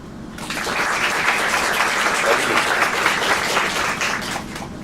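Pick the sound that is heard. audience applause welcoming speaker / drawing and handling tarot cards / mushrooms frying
audience applause welcoming speaker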